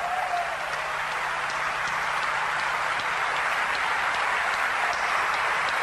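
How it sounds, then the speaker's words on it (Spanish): A church congregation applauds during a preacher's sermon. Sustained, even clapping carries on throughout at a steady moderate level, with a faint brief tone near the start. "Este aplauso, tu aplauso, es para ellos."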